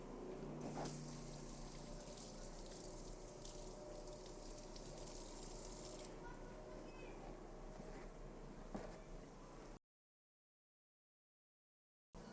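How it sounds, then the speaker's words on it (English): Tap water runs steadily into a sink as dirty leeks are rinsed again, a continuous quiet hiss with faint splashing before a brief silent gap. "I am going to give these another rinse because, as you can see, we got some dirt in there."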